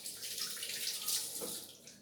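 A tap runs steadily while hands are washed before baking a cheesecake, a continuous close splashing hiss of water with no talking.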